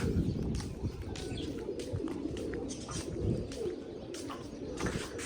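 Soft pigeon coos murmur from a flock nearby, steady and low, with occasional faint chirps and wing flutters.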